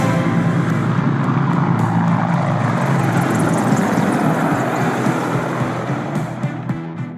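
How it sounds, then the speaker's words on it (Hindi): Military helicopters, a Light Combat Helicopter, Apaches and Advanced Light Helicopters, pass over the Republic Day parade with a loud, broad rotor and engine roar that slowly fades as they move away. "इसमें एक लाइट कॉम्बैट हेलीकॉप्टर, 2 अपाचे और 2 एडवांस्ड लाइट हेलीकॉप्टर जोश और जुनून को चरम पर ले जाएंगे।"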